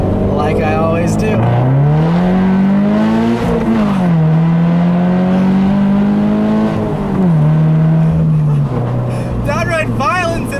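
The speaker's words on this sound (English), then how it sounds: "I'll leave you guys with a nice little acceleration like I always do" Subaru BRZ on snow tires pulling hard through the gears in hilly country with all windows rolled down, its engine note rising loud and close with a shift dip, while the driver talks over it at the end.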